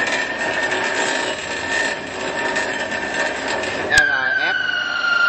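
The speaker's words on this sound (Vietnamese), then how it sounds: "máy cưa vòng ngang bán tự động" A semi-automatic horizontal metal band saw, model RF 330NA, runs with a steady whining drone and a bright sustained tone, then a sharp click near the end as the pitch slides downward while the machine winds down.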